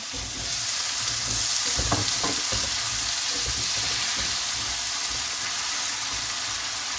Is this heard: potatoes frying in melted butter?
yes